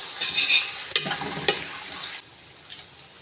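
Ginger, garlic and green chili paste sizzling and frying in a hot pan while being stirred, a steady hiss with a few scraping strokes, then the sizzle quiets near the end.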